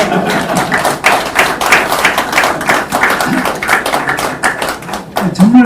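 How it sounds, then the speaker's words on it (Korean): An audience claps at a Korean Medical Association meeting with a presidential candidate, a loud, close burst of hand claps with uneven thumps and taps and some voices mixed in throughout. "의사 선생님 빼고 나머지 다 박수 한번 보내주세요"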